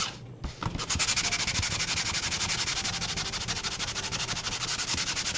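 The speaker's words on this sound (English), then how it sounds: "Sandpaper, 320 or higher." Steady back-and-forth rubbing of 320-grit sandpaper over a gessoed painting panel, heard close with a fast, even rasping rhythm after a brief start.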